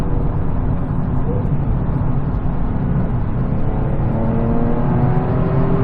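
A 2009 Nissan 370Z accelerating, its engine note climbing steadily through the revs as it pulls hard and loud for several seconds.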